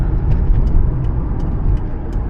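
A supercharged 2004 Ford Mustang Cobra SVT roars loudly and continuously as its tires spin, a dense close engine drone with faint higher squeal bursts over it.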